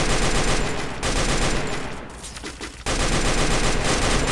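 Dense, sustained M249 machine gun fire in a battle royale video game, loud continuous bursts with a brief dip in the middle before the rapid firing resumes at full intensity.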